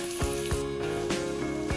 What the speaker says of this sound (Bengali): পেঁয়াজটা ভেজে নিচ্ছি এদিকে